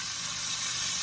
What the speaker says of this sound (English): Look how nice this is frying up.